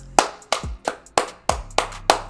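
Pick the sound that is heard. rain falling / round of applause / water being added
round of applause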